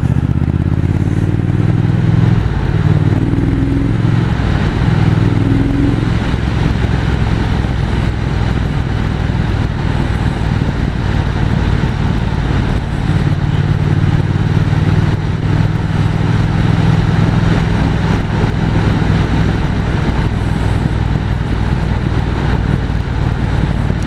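A Triumph 1200 Speed Twin motorcycle rides along the Route des Crêtes in the Vosges mountains, its engine a steady loud rumble that runs the whole way through, mixed with wind and road noise and no talk.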